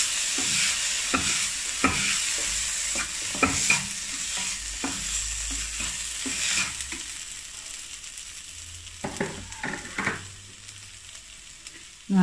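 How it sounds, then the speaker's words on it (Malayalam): Tomatoes and peanuts sautéing in a frying pan for a fish filling, with steady close sizzling and frequent scraping stirs of a spatula against the pan throughout. "ഇതിലേക്ക് നമുക്കിനി എടുത്തു വച്ചിരിക്കുന്ന തക്കാളി ചേർത്ത് കൊടുക്കാം."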